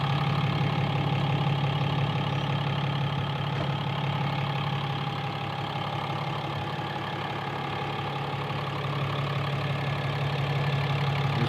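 A 6.7-liter Cummins inline-six turbo diesel in a 2017 RAM 2500 idling steadily, with a low, constant hum and a faint clattering texture that stays even throughout at a moderate, close level.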